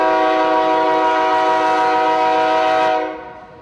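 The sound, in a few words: Q121 double-stack container train arriving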